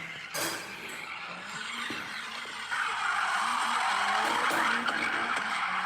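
A rally car doing donuts builds from engine revving into a long, loud tire squeal and skid that swells and sweeps in pitch as it circles close by, with no voices.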